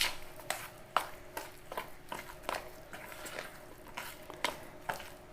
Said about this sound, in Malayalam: നമ്മൾ തൈര് വെച്ചിട്ട് നല്ല മിക്സ് ചെയ്യുക.